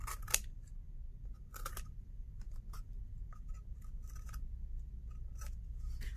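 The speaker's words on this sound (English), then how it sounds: "you can always cut it off" Scissors snip through a rolled paper craft in a few quiet, sharp cuts spaced across a soft, low background hum, with no talk.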